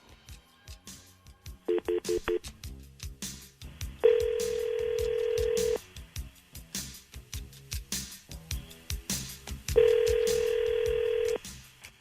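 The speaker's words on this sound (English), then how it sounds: "We're going to make a phone call to him" Telephone call being placed: a burst of DTMF dialing tones, then two long electronic ringback tones separated by a pause, with no voices.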